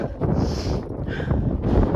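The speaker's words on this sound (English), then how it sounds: "It's freezing cold and very windy, and we have zero shade." Heavy wind roars across the microphone in a brief, steady low rumble with slight surges, on a cold mountain hike between Wild Horse Pass and Landslide Lake, and nobody speaks.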